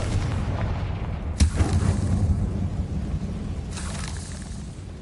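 The Confringo blasting spell goes off in a Harry Potter video game as a deep booming blast over a steady rumbling background, followed a couple of seconds later by a second, softer burst.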